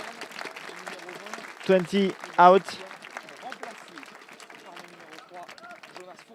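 A crowd at a France versus Germany third-place match applauds a player leaving the pitch, with short bursts of clapping rising over steady announcer talk and general stadium noise.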